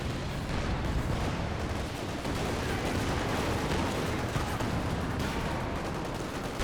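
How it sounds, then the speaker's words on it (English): A Land Mattress rocket barrage in Company of Heroes 2 hammers down as a dense, continuous wash of rapid explosions and crackling impacts, loud and unbroken throughout. "The land mattress barrage running in somewhere."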